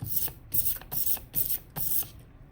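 An inked roller rolls over foam during collagraph printing, making soft, scratchy hissing swipes in a steady back-and-forth rhythm, about five strokes, close by and fairly quiet.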